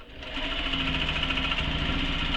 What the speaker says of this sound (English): I'm just going to back stitch over that